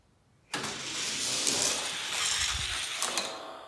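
A modified Hot Wheels Lamborghini toy car rolls on its wheels with a sudden start and a steady whirring, rattling sound lasting a few seconds, close and fairly loud.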